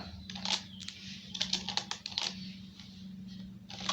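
Code being typed on a computer keyboard, quick irregular key clicks close by and fairly quiet, bunched into short runs with brief pauses over a low steady hum.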